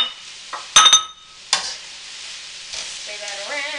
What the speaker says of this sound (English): Stir that around.